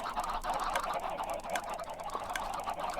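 Chickens in a video game, a busy flock clucking and squawking together in a steady overlapping chorus, close and fairly loud without any talking.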